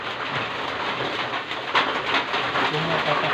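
Rain falling on a farm, a steady hiss of drops with scattered louder patters, close, and a faint voice in the background.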